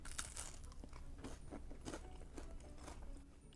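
Crunchy chocolate chip cookie loaded with big chocolate chunks and nuts, bitten and chewed up close: a run of dry crackly crunches and crumbly bites in an irregular rhythm, with no talking.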